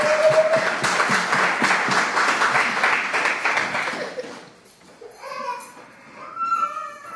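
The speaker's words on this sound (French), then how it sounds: "Acclamons d'abord le Seigneur." Church congregation at a Sunday worship service applauding, a loud dense wash of many hands clapping that fades out after about four seconds, followed by scattered voices and a faint sung or spoken phrase.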